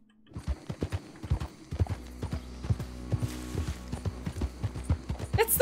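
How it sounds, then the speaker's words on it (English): Horse hooves clip-clop in a video game, a steady stream of close, crisp hoof strikes over a faint background, with a brief whinny near the end. "It's the horses, exactly."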